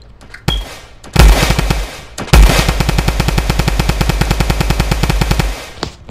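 Rapid automatic bursts from a drum gun in the Roblox game Da Hood, a few short shots first, then a long sustained stream of evenly spaced loud rounds, close and dominant with no talk.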